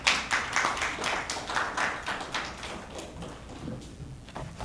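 An audience at a Korean peace symposium applauds, with a burst of clapping from many hands that fades gradually over several seconds, heard indoors.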